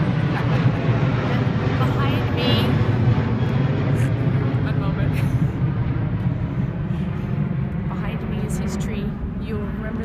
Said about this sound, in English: sorry about the airplanes.